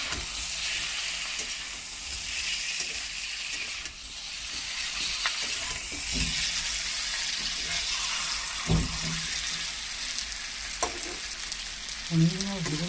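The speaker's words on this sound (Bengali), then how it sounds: "পনিরগুলো ভেজে নিচ্ছি খুব সুন্দর করে।" Paneer and potato pieces fry in a pan with tomato, producing a continuous bright sizzle over low hiss, punctuated by a few stirring scrapes and bumps of the utensil.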